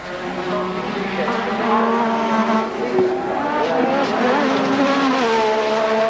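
A 1986 Formula 1 car at speed during Australian Grand Prix qualifying, loud high-revving engine howl rising and falling through gear changes, close and continuous, with a brief scrape as the car bottoms.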